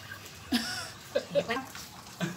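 Tap water poured into a home drinking-water filter unit, gurgling and splashing in short uneven bursts close by, with people talking quietly over it.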